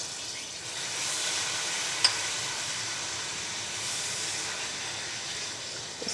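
Garlic ginger paste fries in hot oil for biryani, a steady close hiss and sizzle that holds evenly throughout, with one brief tap partway.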